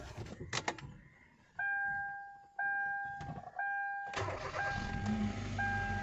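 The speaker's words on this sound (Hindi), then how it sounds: "करते हैं गाड़ी को स्टार्ट।" A Hyundai Verna automatic car chimes a few steady electronic tones before its engine cranks and catches with a sudden close roar, then settles into a steady idle while the chime continues.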